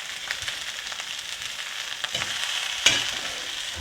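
Onions frying in a pan for fajitas, browning at the edges, give a steady broadband sizzle, with a few stirring scrapes and one sharper clatter near the end, heard alone at close range.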